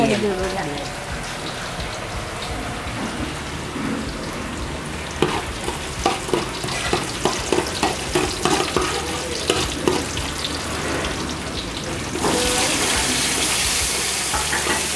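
Mustard seeds frying in hot oil in a pan with coconut pieces, a steady crackling sizzle with a run of sharp popping spatters that grows into a louder hiss near the end, and a voice talking over it.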